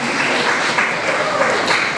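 Church congregation at a pastor's 50th jubilee celebration applauding loudly, a close, dense, continuous burst of clapping with crowd noise and no speech.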